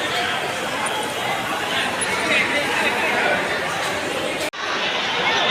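A crowd of Konkan travellers at Ratnagiri railway station, a continuous dense murmur of many voices close by with steady chatter throughout and a momentary break near the end.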